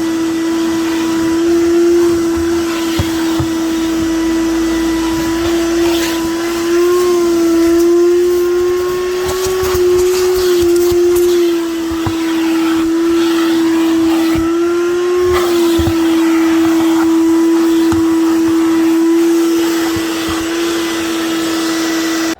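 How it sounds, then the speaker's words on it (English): A vacuum cleaner fitted with a crevice tool cleans the carpeted interior of a 2009 Buick Enclave. It gives a loud, steady, high whine that runs unbroken throughout, with slight pitch shifts as the nozzle moves. "I bought some new attachments for my vac, so now I got some better crevice tools to get with"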